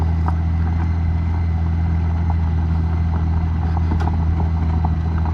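A Goldwing touring motorcycle rolling along a park road, its engine a steady, close, low drone with faint road and wind noise and no voices.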